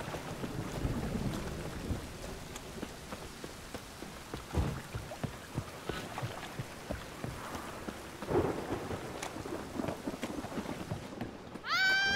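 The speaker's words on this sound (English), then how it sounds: "Raining buckets." Heavy rain pours steadily in The Witcher 3 while thunder rumbles and cracks several times, with a louder crash near the middle and a brief tonal game sound at the very end.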